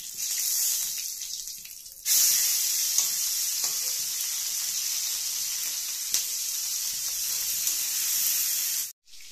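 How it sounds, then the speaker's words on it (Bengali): Prawns fry in hot oil seasoned with salt and turmeric, giving a steady close sizzle that runs almost unbroken, with a few sharper pops and a brief quiet gap near the start and end. "দিয়ে চিংড়ি মাছটাকে ভালো করে একটু আমরা ভেজে নেব"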